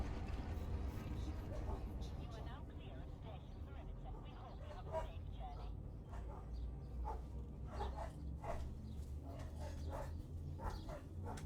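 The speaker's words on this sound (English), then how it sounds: "My dogs are going ballistic at, I think, the neighbor's dogs." Several dogs bark and yelp excitedly in a distance, a rapid irregular string of barks running under continuous speech.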